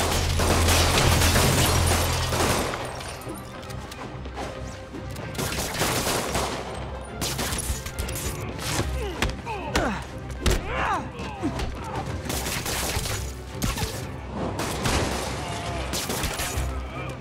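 Rapid gunfire and heavy thuds from Marvel's Spider-Man on PS5, dense and loud throughout, with game voices talking over the shots.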